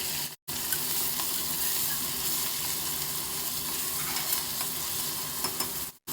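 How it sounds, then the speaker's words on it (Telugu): Mint leaves and onions fry in hot oil, a dense continuous sizzle with stirring scrapes, loud and close, briefly cut off at the start and end. "ఫస్ట్ వేసి ఆయిల్లో వేసి ఫ్రై చేస్తే, అలాగే ఆనియన్స్ కూడా వేసి ఒకసారి కలిపి"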